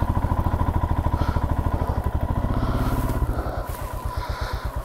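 Motorcycle engine chugging with a steady, rapid rhythmic thump, close and loud, on a mountain road trip near Chicham Bridge in Spiti; the beat shifts slightly partway through as the engine note changes.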